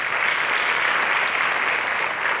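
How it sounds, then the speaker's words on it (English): An audience at a mathematics contest gives a dense, steady round of applause that stays loud and even throughout, with no voices heard over it. "Please give them a round of applause."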